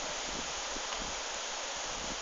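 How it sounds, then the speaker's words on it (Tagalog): Steady broadband rush of heavy rain and wind outdoors, a constant hissing wash with no distinct drops or gusts standing out, nearby and fairly loud. "Lakas pa rin ang ulan at hangin sa labas."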